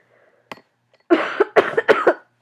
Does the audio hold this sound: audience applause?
no